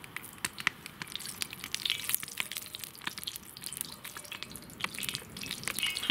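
Sunflower oil is poured into a hot cast-iron kazan over a fire, giving a close, faint run of crackles, drips and sizzling pops.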